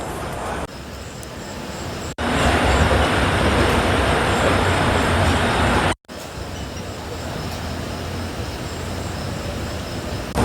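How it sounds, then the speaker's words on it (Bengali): A Kandari Express superfast train pulls out of Digha station, its steady rumble and rolling carriage noise loud and close from the start, with faint wheel squeal and clatter and a brief cut midway. "2:18 দীঘা থেকে ছেড়ে দিল আমাদের ট্রেন হাওড়ার উদ্দেশ্যে"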